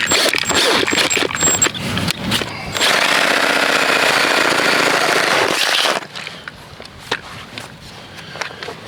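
Loud, harsh grinding and rattling of a power drill boring into drain tile to fit a tap tee, running steadily for several seconds before stopping, followed by scattered clicks and handling noises.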